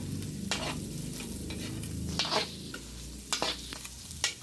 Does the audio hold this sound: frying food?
yes